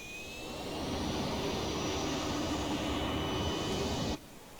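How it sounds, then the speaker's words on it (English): Loud, continuous roar of MD-80 jet engines with a thin high whine during climb, heard from inside the aircraft, cutting off abruptly near the end. "I love older engine sound."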